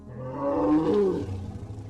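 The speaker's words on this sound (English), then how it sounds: "expelling it from his trunk with a brassy sound" A brassy trumpeting breath blown from an elephant-like trunk, rising into a loud roaring swell near the middle and then fading into a lower rumbling tail, heard alone.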